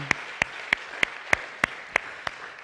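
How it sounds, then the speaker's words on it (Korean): Steady, evenly spaced claps ring out together in unison during a church worship service, about eight sharp beats in under three seconds, with no talk over them. "우리 살아계신 하나님께 영광의 박수 올려드리겠습니다"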